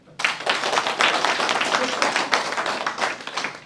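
A room of residents at a Korean community meeting breaks into applause after a brief quiet start, a close, sustained burst of many hands clapping with no speech over it.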